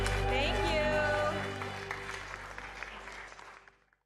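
Applause from people at a city council meeting, a brief round of clapping that fades out under music and voices.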